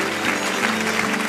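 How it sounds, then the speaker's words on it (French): Church congregation applauding together, a steady dense wash of clapping heard up close without speech, filling a brief stretch of a worship service. "Acclamons le Seigneur pour sa présence parmi nous."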